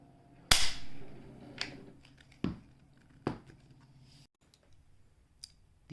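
Clicks from the two-stage trigger of a Persian Mauser rifle chambered in 8mm Mauser, which has light take-up and a clean 5.5 pound break: a sharp near snap, then three softer separate clicks at a steady pace in a quiet room.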